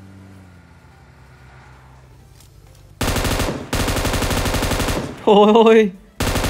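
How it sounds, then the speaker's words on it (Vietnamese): PUBG Mobile gameplay: a low vehicle engine drones quietly, then loud rapid bursts of automatic gunfire cut in and out. A man briefly exclaims over the shots. "Ấy chà, có tiếng súng, có cả tiếng xe luôn."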